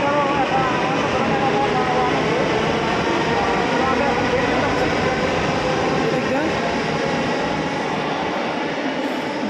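A Delhi Metro train running, heard from inside as a steady, loud rumble and whine with constant rail noise from start to finish and no break.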